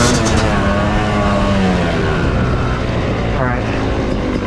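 A new Yamaha YZ250 dirt bike being broken in at a motorsports park, its engine loud and close, revving with rising and falling pitch sweeps over steady roar and wind noise.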